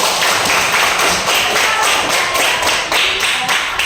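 A group claps hands in a steady, rhythmic pattern during an elementary-school lesson, the close, bright slaps repeating evenly and loudly with no talking.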